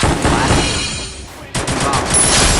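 Rapid bursts of automatic gunfire from the Free Fire battle royale game, dense and loud, broken by a short lull before another sustained volley.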